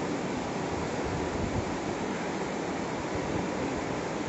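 The swollen Trishuli river rushes past at Simaltal in Nepal, a steady broadband roar of fast water that holds even and loud throughout, with no voices heard.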